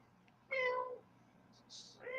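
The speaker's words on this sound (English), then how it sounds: "Baby kitty." A cat meows twice close by, a long harmonic call followed by a shorter one after a brief pause, over quiet room hum near an aquarium setup.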